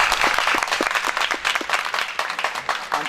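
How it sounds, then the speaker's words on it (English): Students at a language centre applaud their teachers, a lively burst of many hands clapping in uneven rhythm that carries on steadily from a nearby crowd. "Just clap your teachers first."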